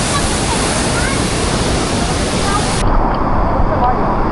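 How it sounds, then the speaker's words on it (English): A waterfall in a clear-water canyon in Moalboal thunders with a dense, loud, continuous roar that fills the whole scene, steady throughout with no break. "It's a beautiful waterfall."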